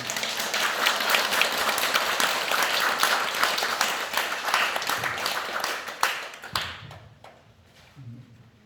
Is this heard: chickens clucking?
no